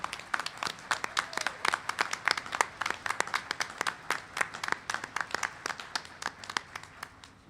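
Steady, dense applause from a graduation commencement audience congratulating the class of 2021, with many hands clapping in an even, sustained patter at moderate distance and no talk over it.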